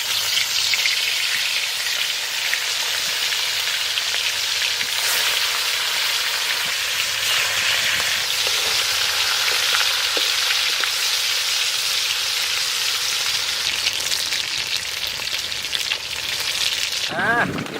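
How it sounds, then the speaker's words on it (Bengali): Bhetki fish frying in a pan gives a loud, steady, dense sizzle that runs unbroken for the whole stretch, with a few faint clinks near the end. "এখন আমরা ভেটকি মাছটারে ভাজে নেবো"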